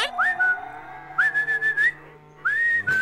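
Cartoon cattle on a ranch give drawn-out, rising moos with a whistle-like tone, three loud calls in quick succession set apart by short gaps.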